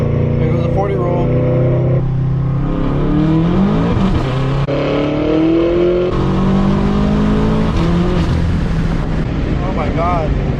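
BMW F10 M5 running on E85 fuel accelerating hard in a low-gear 40 mph roll on a road, the engine note rising steadily and loud throughout while someone talks over it.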